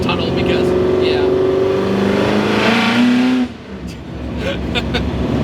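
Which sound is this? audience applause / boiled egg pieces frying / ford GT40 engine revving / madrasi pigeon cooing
ford GT40 engine revving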